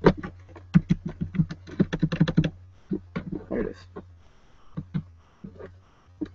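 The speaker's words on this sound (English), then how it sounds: "make sure you want to type in download" A laptop keyboard is tapped out in an irregular run of close keystrokes, busy at first and then sparser, with a steady low hum underneath.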